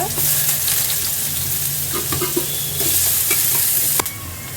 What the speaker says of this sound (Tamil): இஞ்சி நல்லா வதங்கி பொன்னிறமாக ஆகிற வரையும் வதக்கிக்கோங்க.